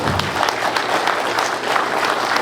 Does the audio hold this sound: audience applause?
yes